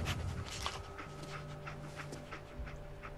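Dogmeat, the dog companion in Fallout 4, pants in quick, steady breaths with faint whines, close by over a low game ambience.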